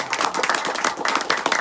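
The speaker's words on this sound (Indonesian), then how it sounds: "Itu pasti tepuk tangan" Applause from a gathering at a routine training opening for the Kesti TTKKDH Banten martial arts association, a dense patter of hand claps sustained throughout at moderate loudness.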